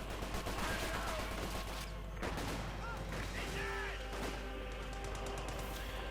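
Armoured car machine-gun fire in the World War II strategy game Company of Heroes 2, a continuous rattle of automatic bursts mixed with battle noise and explosions, steady and fairly loud throughout.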